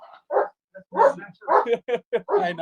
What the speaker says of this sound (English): I own a German Shepherd, and he's getting really excited here.